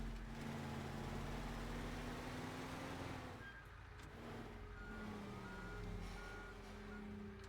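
A truck reversing in the Teardown video game, with a steady loud engine drone and a beeping reverse alarm that continues over the engine noise.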